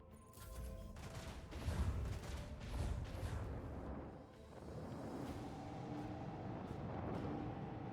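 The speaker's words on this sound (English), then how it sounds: "I want to hear macro cannons roar." Heavy macro cannon fire in the video game Rogue Trader booms in rapid, overlapping volleys, loud and rumbling, followed by a sustained roar of distant explosions.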